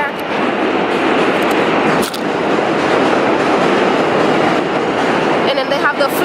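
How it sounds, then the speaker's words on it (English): A New York City Q subway train rumbles past in Dumbo, Brooklyn, a loud, continuous roar with clattering wheels that fills the whole stretch and nearly drowns the surroundings. "it is so noisy because of the train. I think that's a Q train."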